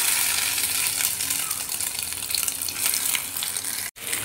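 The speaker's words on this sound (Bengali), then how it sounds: "এখন আমি বাকি পটলগুলোকে একই প্রসেসে ভেজে নেব।" Pointed gourd (potol) pieces fry in a pan with a loud, steady, hissing sizzle that barely varies, broken only by a brief dropout near the end.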